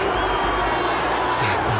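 A big football stadium crowd at Wembley jeers a penalty taker with a continuous loud roar of voices, whoops and shouting that fills the whole moment.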